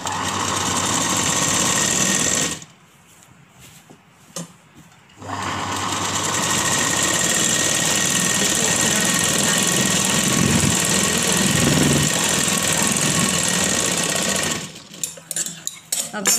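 A sewing machine stitches kurti fabric in loud, steady runs, stopping briefly around three seconds in and again near the end, with near-constant motor whir and needle chatter.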